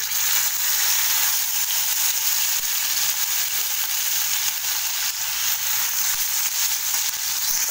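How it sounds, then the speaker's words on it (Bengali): Chicken pieces frying in hot oil in a kadai, a loud, steady, close sizzle that continues without pause. "দেখো তেলটা আমার গরম হয়ে গেছে, এর মধ্যে কিন্তু আমি এবার চিকেনগুলো কিন্তু অ্যাড করে দেবো"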